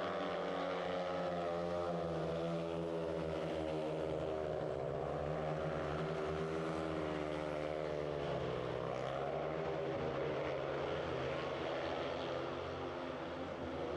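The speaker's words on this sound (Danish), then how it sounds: "Men det blev her i gul Hyssel Thomsen, der kørte i mål som sikker vinder af heat nummer 12." Speedway motorcycles with 500cc engines race a heat at the Fladbro track, engines roaring continuously and loudly with shifting pitch as the bikes circle, no pause for the full length.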